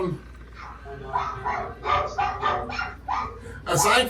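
Small puppy barking indoors, a series of short high yips and barks close by, with people talking around it.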